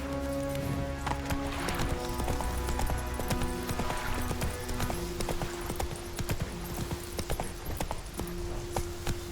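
Roach, a horse in The Witcher 3: Wild Hunt, gallops steadily. The hooves clop in a quick, continuous rhythm, close and prominent, over a low background drone.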